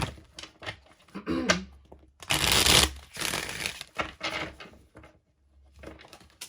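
Tarot cards are shuffled and a single card drawn: light papery flicks and taps, then a dense burst of riffling in the middle, trailing off into soft scattered handling sounds.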